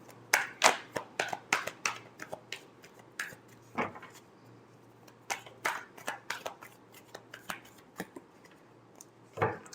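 Tarot cards being shuffled by hand, giving a string of sharp, close riffling slaps and taps in an uneven rhythm, one burst after another.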